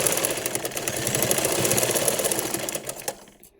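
A sewing machine stitches the front part of a blouse, running in one steady, loud, close mechanical whir for several seconds before stopping abruptly at the end.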